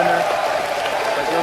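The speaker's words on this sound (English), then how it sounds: "One more round of applause for Rage" A crowd at a beatbox battle showdown claps steadily, with dense, even applause held throughout and no clear gaps.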